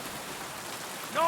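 Steady rain falls in the medieval world of Kingdom Come: Deliverance 2 on an overcast evening, a soft continuous hiss throughout, with a brief tonal chime rising at the very end.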